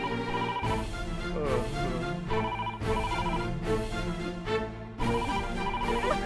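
A telephone rings in repeated bursts of a bright electronic ringtone melody, with short gaps between each burst, over a continuous background sound.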